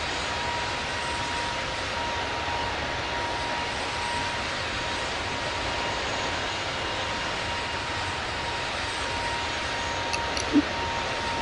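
Steady drone of an aircraft engine cruising in Microsoft Flight Simulator 2024 on PS5, a constant broadband hum with a faint tonal whine, unchanging for the whole stretch apart from a tiny click near the end.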